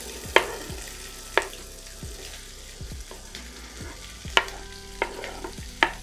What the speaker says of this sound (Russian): и мы можем отправлять туда жариться лук